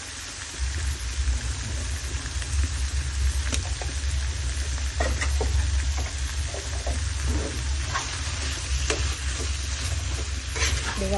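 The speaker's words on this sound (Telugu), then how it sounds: "ఇవన్నీ కలిసేలాగా బాగా కలిసేటువంటిది." Boti curry being stirred and mixed in a pan, a steady soft sizzle with intermittent scraping strokes over a continuous low hum, no voices.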